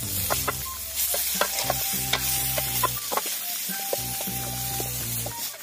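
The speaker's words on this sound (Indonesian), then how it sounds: "Setelah itu kita aduk lagi." Food being stirred in a sizzling pan while cooking outdoors in a forest, with repeated scraping strokes of a utensil over continuous frying hiss, close and busy.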